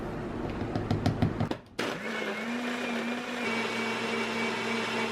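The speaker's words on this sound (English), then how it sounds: "and then I'll put the protein powder on top and then we'll blend it" A kitchen blender whirs through a smoothie with protein powder, a loud steady motor hum with rattling chops at first, then a brief dip before it settles into a smooth, continuous high-speed drone.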